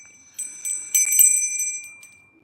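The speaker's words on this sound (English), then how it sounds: "Ring the bell." A small hand bell rings close and bright, shaken in a few quick strokes whose metallic tones linger and fade, with no talking.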